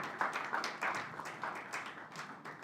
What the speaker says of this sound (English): Can we make that applause long?